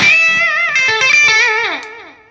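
Electric blues lead guitar with low reverb and a slight delay, playing a short melodic phrase of sustained, bending notes that ring out and fade at the end, close and clear with no one talking.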